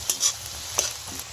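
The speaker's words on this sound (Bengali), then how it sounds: "পেঁয়াজটা আমার ভাজা হয়ে গেছে, এরই মধ্যে আলুটা দিয়ে দেবো।" Onions sizzle in hot oil in a pan while a utensil stirs them in a few quick scraping strokes, close and steady, with no talking, during preparation of shop-style ghugni.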